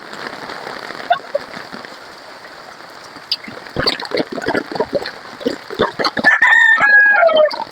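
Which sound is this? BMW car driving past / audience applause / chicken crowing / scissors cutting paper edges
chicken crowing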